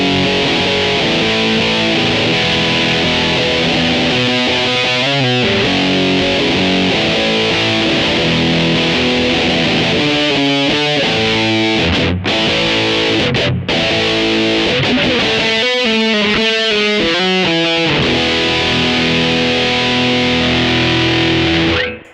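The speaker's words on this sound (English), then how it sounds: "turn on the screamer. So all the mid-range comes back in and you get this huge distortion sound." An electric guitar on the bridge humbucker plays through stacked Mosky Mini Muff and Mini Screamer gain pedals, giving loud, thick distorted chords and riffs with sustained notes and brief stops, close and continuous.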